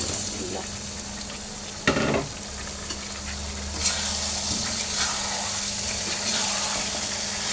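Fried chicken pieces go into cooked-down masala in hot oil for chicken kosha, giving a sharp splash and then a continuous sizzle, broken by scraping stirs, close up with no talk.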